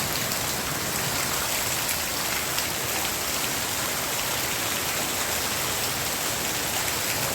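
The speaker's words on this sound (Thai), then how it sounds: "ฝนตกแบบนี้ก็เย็นดีนะคะไม่ร้อน" Steady rain pours in the rainy season, a dense, even hiss of drops on surfaces that continues unbroken throughout with no voices.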